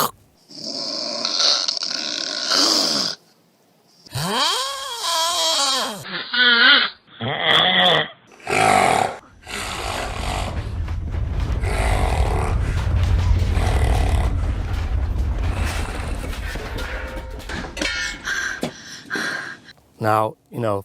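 A person imitates snoring with a string of vocal snores, rattles, gasps and throaty rumbles, including one long, loud, rumbling stretch in the middle. The sounds come close up, separated by short pauses.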